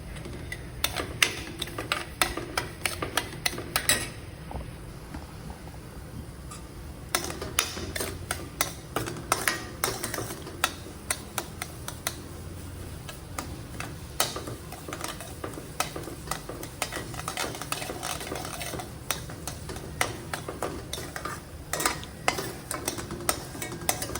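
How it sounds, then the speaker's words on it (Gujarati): Semolina (sooji) being roasted in a pan for sheera, with a spoon scraping and stirring in quick, irregular strokes over a soft, steady sizzle, close and fairly quiet. "હવે બીજી બાજુ આપણે રવો પણ શેકી લઈશું"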